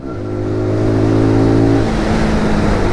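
A small SYM NH-X 125 motorcycle engine revs up steadily, its pitch holding high and loud, then drops off as the throttle eases near the end.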